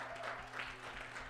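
A church congregation standing and clapping, a brief steady patter of applause at moderate distance.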